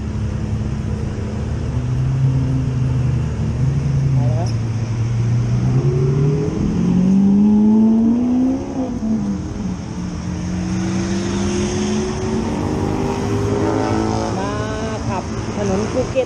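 A Lamborghini Aventador supercar drives through Phuket, its engine droning and rising in pitch as it revs and accelerates, loud and steady throughout, with other supercar traffic nearby and voices talking over it.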